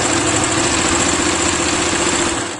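A sewing machine stitching a seam runs with a steady, continuous motor whir and fine rapid needle chatter, close and even from start to finish with no talking.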